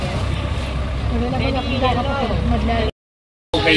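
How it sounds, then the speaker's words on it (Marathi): A speedboat departs near Phi Phi Island, its engine rumble and water noise running steadily under people talking before cutting out briefly. "सो स्पीड बोटमध्ये येऊन बसलोय आणि आता इथून स्पीड बोट निघणार आहे"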